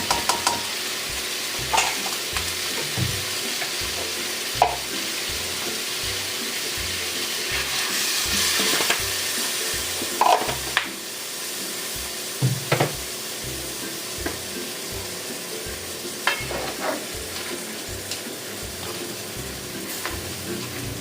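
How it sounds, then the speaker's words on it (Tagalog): A spoon scrapes and stirs sautéed chayote (ginisang sayote) in a pan, with fish sauce and a little water added, in a steady repeating rhythm over a constant close sizzle and watery simmer. "Takpan lamang po natin para po maluto yung ating sayote."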